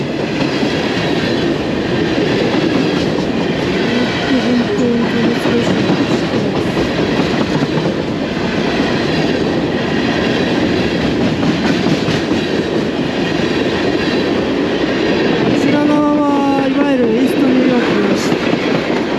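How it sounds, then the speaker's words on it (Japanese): A long, large freight train rumbles past close by in Buffalo, New York, a continuous loud roar of wheels and rattling cars, with a brief high squeal near the end. "これいつまで続くのかなってぐらい貨物列車がずっと"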